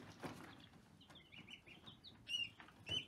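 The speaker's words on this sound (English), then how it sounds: "And this is one of the 5 ducklings that we're also raising." Young ducklings on a small farm give thin, high peeps in short scattered bursts, fairly faint and close, amid soft rustling and occasional clucks from baby chickens nearby.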